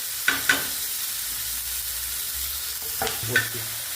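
Tomatoes sizzle steadily in a hot pan, with a few sharp scrapes of a spoon stirring them.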